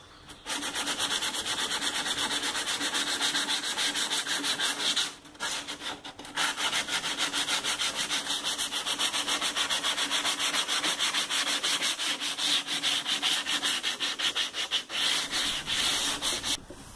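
Close, continuous back-and-forth wet sandpaper rubbing on rusty metal of a household refrigerator, quick regular strokes with two brief pauses, otherwise unbroken and fairly loud.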